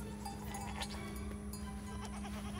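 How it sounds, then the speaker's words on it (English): Goats on a small farm bleat among other livestock, brief calls standing out over a steady background of animal and yard noise, fairly close. "And then here's our goats."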